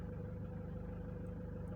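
A hydrogen hybrid car engine idles at around 700 RPM in a garage, a steady low rumbling pulse that is close and continuous, with no voices.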